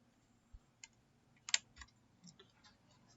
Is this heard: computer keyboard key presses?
yes